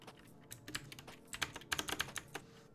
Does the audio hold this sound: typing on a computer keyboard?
yes